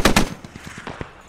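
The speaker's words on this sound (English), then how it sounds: "That was an SPG shot that overshot." A self-propelled gun fires in SquadOps, with two sharp, loud reports up front followed by a string of fading echoes rolling away across hilly terrain.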